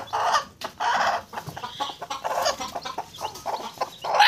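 A brooding hen sitting on eggs with newly hatched chicks clucks as she is lifted, giving close, agitated bursts of clucks in an uneven rhythm with short pauses between them.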